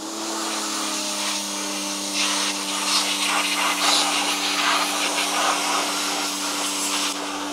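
Water from a pressure washer rinsing off brake calipers, a continuous loud broadband hiss with a steady motor hum underneath, close and unbroken throughout.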